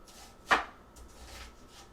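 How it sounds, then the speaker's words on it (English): One sharp knife chop through an onion on a cutting board, a single quiet close thud in an otherwise hushed kitchen, followed by faint small handling noises. "the first thing we're going to do is chop up our onion"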